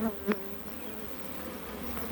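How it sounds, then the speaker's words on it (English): A dense, continuous buzz of a large swarm of honey bees fills the air, steady and close, with a couple of brief knocks at the start. "Lots and lots of bees"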